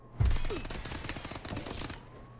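Gunfire in the Call of Duty video game: a sharp opening shot followed by a rapid, dense burst of automatic fire that rattles on for about two seconds, loud and close, then trails off.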